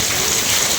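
Heavy rain pours down as a dense, loud, continuous hiss, steady and close, with no voices over it.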